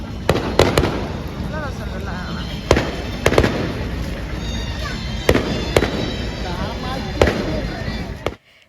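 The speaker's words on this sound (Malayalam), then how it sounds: "പള്ളിയുടെ പുറകിലൊക്കെ ഇഷ്ടംപോലെ പടക്കം പൊട്ടുന്നുണ്ട്" Repeated sharp firecracker bangs burst at irregular intervals behind a church during a church feast, over a steady crowd murmur and background chatter, loud and fairly close.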